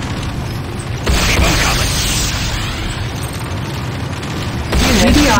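A GDI Tiberium refinery blows up in Command & Conquer: Renegade, with loud deep booms and rumbling blasts at the start and again near the end, mixed with game effects and a brief spoken voice.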